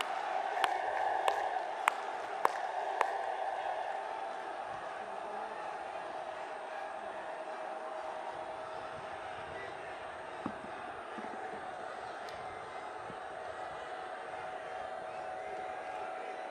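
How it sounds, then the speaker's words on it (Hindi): A large crowd at an outdoor political rally in Lucknow, Uttar Pradesh, gives a sustained roar of cheering and applause with a few sharp whistles and shouts early on. The sound stays dense and fairly distant throughout. "खड़े होकर अपने स्थानों से तालियों के गड़गड़ाहट से जबरदस्त स्वागत करें मित्रों"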